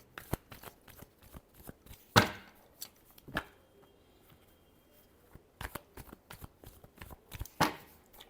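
Tarot cards are shuffled by hand in short, crisp bursts of riffling and slapping, with several sharper snaps between quiet pauses, close and fairly soft.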